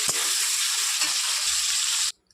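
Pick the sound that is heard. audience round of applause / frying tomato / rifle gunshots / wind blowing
frying tomato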